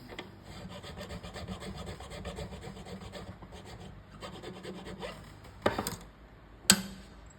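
File cutting string slots into a new guitar nut, a steady close rasping and rubbing stroke pattern throughout, ending in two sharp ticks as the strings seat.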